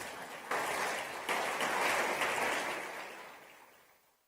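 A conference audience at an Organization of American States meeting gives a steel orchestra a round of applause, a broad even wash of clapping that builds quickly and then fades away, with no talking.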